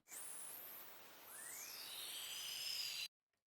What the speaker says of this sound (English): this is whistling